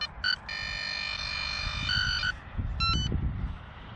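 A Quest XPointer Max metal detector pinpointer gives a steady high electronic tone outdoors in a field, then a couple of short beeps as it switches off in its holster, with faint rustling underneath.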